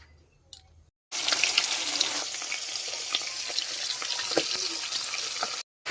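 Fish rubbed with salt and turmeric drops into hot oil and bursts into a loud, steady sizzle that holds for several seconds after a brief quiet start, then cuts off abruptly.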